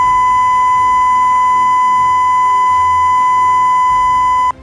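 An industrial safety alarm sounds the well kick emergency code as a loud, continuous steady electronic tone that holds unbroken for several seconds before cutting off abruptly.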